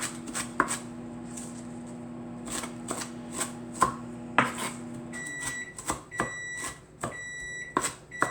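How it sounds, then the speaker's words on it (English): Cooked turkey burger being broken up and stirred with a meat separator in a pan: irregular scraping and tapping clatter, some sharp knocks, with a few faint electronic beeps near the end and no talking. "Then we'll give it a mix up using our meat separator."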